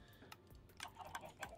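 A contraption in the Minecraft-based RetroCraft video game clicks nonstop, a quick irregular run of faint, sharp ticks close up, with no voices.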